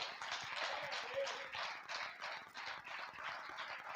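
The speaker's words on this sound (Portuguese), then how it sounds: "Pode aplaudir ao Senhor" A congregation claps in a church service, a quiet, steady patter of many hands with a loose rhythm, distant and soft throughout.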